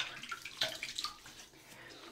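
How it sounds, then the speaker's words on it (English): Hot tap water runs and splashes in a shower while a face is wetted before a shave, a light, uneven trickle with a few louder splashes and a sharp spatter at the end. "Let's wet the face a little bit. This hot water."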